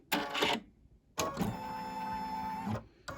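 A home embroidery machine stitches pink-thread placement lines for an eyeglass case, with a short whirring burst, a pause, then a steady mechanical buzz of rapid needle strokes running close and fairly loud until it stops.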